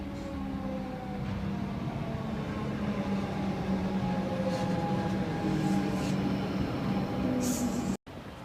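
A steady low rumble and hum of a train fills the space, with faint metallic squeals and station ambience running throughout.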